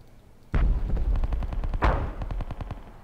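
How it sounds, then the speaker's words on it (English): Gunfire in the military shooter Project Reality 1.2, a sudden loud opening shot followed by a rapid rhythmic burst of rounds and another heavy report, close and dominant, with no voices. "Fire a few rounds and then switch."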